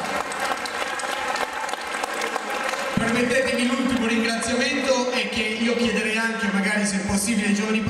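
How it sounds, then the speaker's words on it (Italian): A crowd at an outdoor Lega Nord party rally in Saluzzo's Piazza Cavour applauds a provincial secretary, sustained clapping that swells partway through, with voices and a music-like tonal layer mixed underneath. "Stefano Isaia merita un grandissimo applauso"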